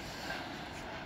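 A BLS Vectron electric locomotive passes, producing a brief, steady broadband rush of rail noise at moderate distance with no clear peaks.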